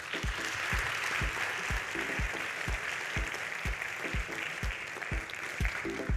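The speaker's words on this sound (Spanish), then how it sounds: "Le damos un nuevo aplauso a María Cristina." Applause at a congress, a steady wash of clapping from an audience with a regular low thumping beat running underneath, moderately quiet throughout.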